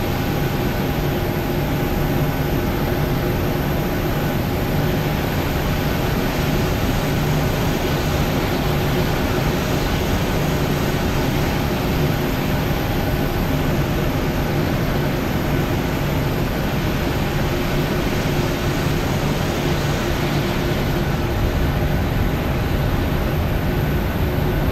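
Steady, loud broadband jet engine rumble of an airliner taxiing toward the runway in the Prepar3D v4.1 flight simulator at Malmö Sturup Airport, with constant tonal whine bands and no speech.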